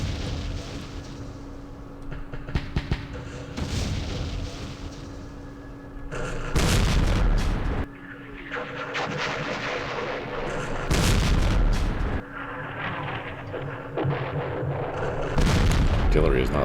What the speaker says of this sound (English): Ah, airstrike!